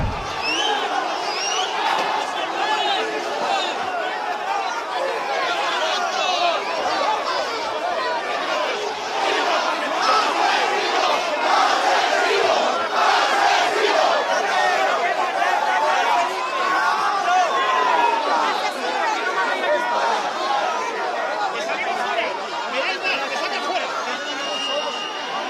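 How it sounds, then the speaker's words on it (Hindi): Angry crowd in a flood-stricken area of Spain shouting at the Spanish king and queen, a dense, continuous roar of many raised voices and cries that stays loud throughout. "गुस्साई भीड़ ने उनके ऊपर हमला किया"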